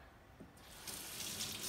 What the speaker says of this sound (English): I put it under the running water.